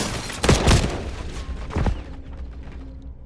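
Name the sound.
gunfire in the video game Call of Duty Warzone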